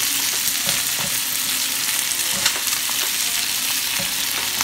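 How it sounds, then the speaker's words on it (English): Chicken wings fry in a little butter in a pan with no oil, giving a steady, close sizzle and crackle that holds throughout with small pops scattered on top. "That's just a bit of butter, a little bit of butter and with the seasoning of the chicken, that's how it's cooking right now."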